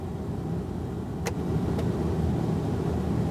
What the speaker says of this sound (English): We'll just put it on vent and turn that blower on.